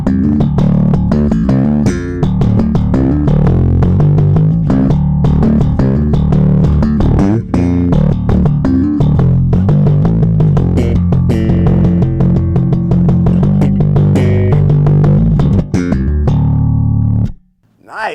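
A bass guitar plays a busy lick through the tube side of a Markbass S.T.U. amp. The notes are loud, thick and sustained, with steady plucked attacks for about seventeen seconds before a sudden stop.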